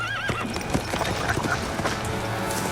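Two horses on a trail in the wild, hooves clip-clopping in an uneven rhythm close by, with a whinny early on and faint wind or movement noise behind.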